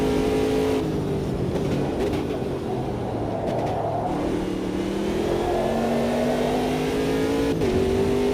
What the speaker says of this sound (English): Luckily this Ginetta works quite well off-road as well.